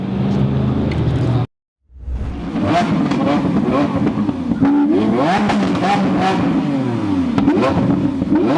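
A Camaro drag car accelerates hard and revs loudly at close range, cutting out briefly before the rising engine roar resumes with clatter and some talk mixed in.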